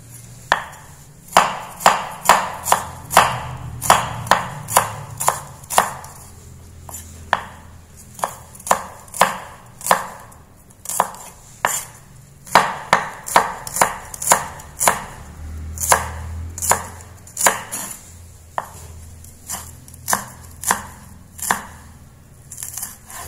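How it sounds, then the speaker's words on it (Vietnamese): Shallots being minced with a knife on a cutting board, giving rapid, steady chopping taps in long runs with brief pauses, close and crisp with no voices. "Hành thơm các bạn sẽ băm ra cho mình nhé."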